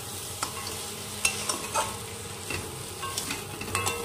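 Crab curry being stirred in a frying pan after salt and turmeric are added: steady sizzling with scraping, clinking strokes of a spoon against the pan, close and alone, with no talking.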